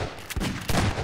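A shotgun fires in the Half-Life 2 Synergy co-op mod: two sharp, loud blasts about half a second apart, each with a short, booming tail over busy game noise.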